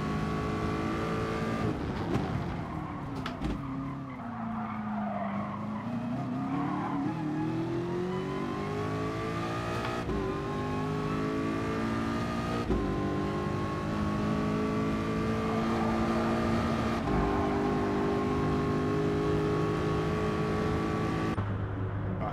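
A Ford GT race car on soft tyres in the GT Sport racing game: a steady engine drone that rises and falls through gear changes and revs, heard alone without speech.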